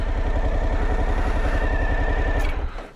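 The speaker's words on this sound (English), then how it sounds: "It does have a what they call a quick start. If it's in neutral, turn it on." A Suzuki V-Strom 1050 XT motorcycle engine running just after a quick start from neutral, giving a loud, close, steady throbbing idle that holds for a few seconds and then cuts off, with no talking.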